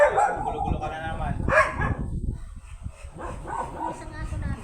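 A Golden retriever barks and whines in short, uneven bursts at close range, mixed in with people talking over it throughout.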